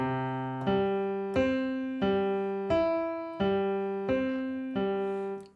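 A piano plays a steady broken-chord pattern of about eight notes at an even pace, each one ringing over a low sustained bass, up close and unaccompanied.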